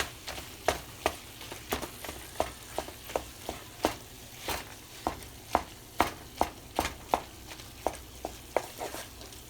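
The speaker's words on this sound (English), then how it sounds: "dump all of that Velveeta in there, okay? Go ahead and mash it in." A spoon mashes and stirs Velveeta cheese into a warm Rotel dip in a pot, producing a quick, uneven series of sharp scraping clacks over a faint low sizzle, with no talking.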